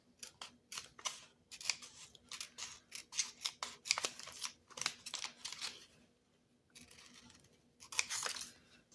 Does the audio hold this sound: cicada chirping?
no